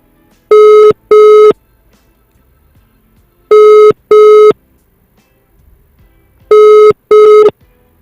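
Telephone ringback tone for an outgoing call, loud and clean: three pairs of short buzzing double rings spaced about three seconds apart, with near silence between them.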